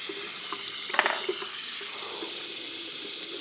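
Running tap water for rinsing off after a wet shave with a Feather adjustable safety razor, a steady close hiss of flowing water with a few small splashes early on, no voices.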